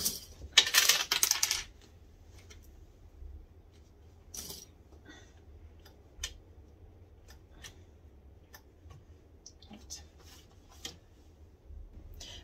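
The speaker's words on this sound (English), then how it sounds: "I'm just going to stick some more clips on it to help encourage the fold." Small clips being snapped onto a fabric wallet: a quick clattering burst of clicks near the start, then scattered sharp, close taps and clicks over a quiet background.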